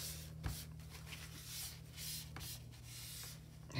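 A glue stick is rubbed over a paper tag, making quiet, continuous rubbing and scraping strokes close by in a soft low hum.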